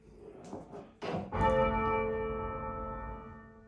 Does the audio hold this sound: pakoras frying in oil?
no